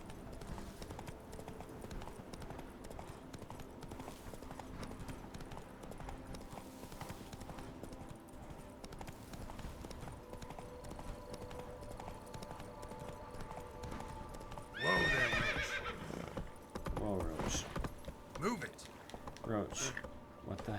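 Hoofbeats of Roach, Geralt's horse, clip-clopping steadily along a road in Toussaint in The Witcher 3, under game music and ambience, with a louder burst of movement near the end.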